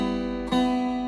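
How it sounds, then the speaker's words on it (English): Guitar note picked on the second string while the pick accidentally brushes a neighbouring string, a sustained ringing tone broken by a brief scratchy buzz and re-attack midway. "If you touch another string, it will always sound like this"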